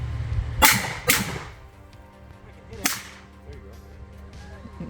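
Three sharp, loud shotgun blasts of buckshot at an outdoor range from a shotgun fitted with a red dot optic; the first two come close together, and the third follows after a short pause, each with a brief ringing tail.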